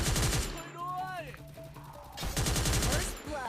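Rapid bursts of automatic gunfire from the Free Fire shooter game ring out loud and close, a sustained volley at the start and another later, with quieter stretches between.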